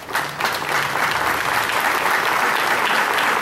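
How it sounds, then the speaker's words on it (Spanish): An audience at a civic ceremony in Papantla claps steadily. The applause is dense and sustained from start to finish, loud and close, with no voices over it. "para quien pido calurosos aplausos."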